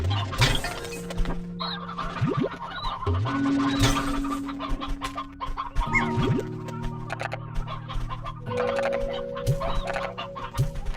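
Chickens in the video game Slime Rancher cluck repeatedly over a droning, tonal music background, with some sharper squawks and bouncy effects scattered through.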